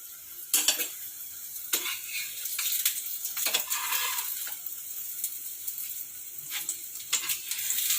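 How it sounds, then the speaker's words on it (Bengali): A soybean roll fries in white oil with a soft continuous sizzle, broken by intermittent clinks and scrapes of a utensil against the pan, with no talk. "সাদা তেল দিয়ে সাদা তেলে একটু ভাজবো।"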